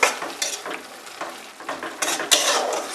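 Fried prawns with vegetable stems stirred in a frying pan, a close sizzle under scraping spatula strokes and light clatters against the pan, with a sharper knock near the end.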